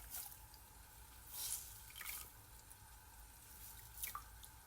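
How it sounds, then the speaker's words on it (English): Soft scattered drips of water falling from wet hand-knitting as it is gently squeezed during blocking, a few distinct quiet droplets over a faint hiss. "I'm just gonna gently squeeze out some of that excess water"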